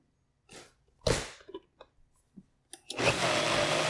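A blender whirs through a batch of homemade pesto in bursts, short pulses and clattering starts giving way to a steady, loud continuous blend at the end.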